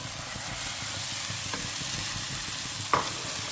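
Onions frying in a pan with black pepper, a steady soft sizzle running throughout at close range, with a brief sharper clink of a utensil near the end.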